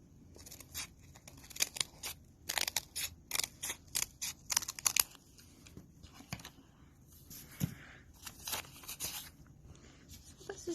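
Scissors snip repeatedly at close range while craft pieces for a styrofoam owl are trimmed, giving a quick run of sharp cuts followed by sparser, irregular snips, with no talking.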